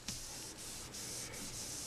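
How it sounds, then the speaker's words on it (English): Clearcoat on a restored Yamaha FZR motorcycle part being wet sanded by hand with sandpaper, a soft, steady hiss of close strokes with short pauses as the direction changes, and no talking. "change the direction of the sandpaper constantly"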